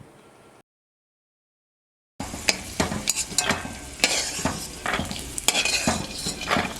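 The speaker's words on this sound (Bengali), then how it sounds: "প্রথমেই আমি বাদাম ভেজে নেব, তার সাথে দিয়ে দিচ্ছি কাজু, দিয়ে হালকা ভেজে নেব" Peanuts, cashews and raisins fry in a pan as a spoon stirs and scrapes them, giving a steady close sizzle broken by sharp metallic clinks, after a short quiet gap at the start.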